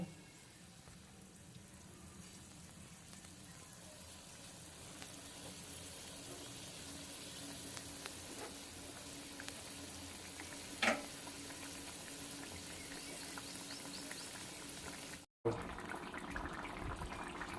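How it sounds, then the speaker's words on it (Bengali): Bata fish curry simmers in a pan with a continuous soft bubbling hiss, faint and steady, interrupted by a brief clatter and a short cut near the end. "এবার ফুটতে দেব"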